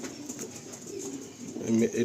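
Two Andhra pigeons, a male and female pair in a loft, coo in low throaty notes near the end. Faint background noise runs underneath.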